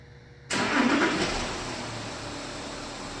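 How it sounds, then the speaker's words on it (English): A 2013 Porsche Cayenne engine, remote-started by key fob, cranks and catches abruptly after a quiet moment, then settles into a steady, moderately loud idle. "in a few seconds the car will crank"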